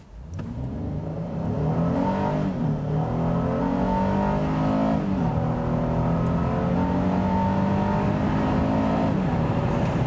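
A 2021 Honda Ridgeline Sport HPD in sport mode is pushed to full throttle, its engine climbing loudly through the revs with a brief dip at each gear change before pulling hard again.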